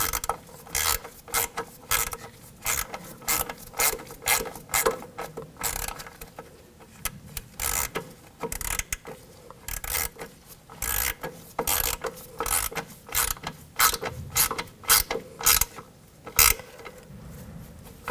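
A hand ratchet tightens a nut on the rear control arm of a 2000-2006 BMW X5, giving repeated sharp clicking bursts in quick strokes with brief pauses, close and clear throughout.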